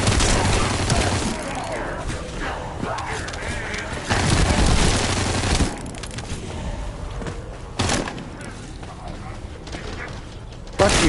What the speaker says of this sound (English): before I come through and cut you in half with a machine gun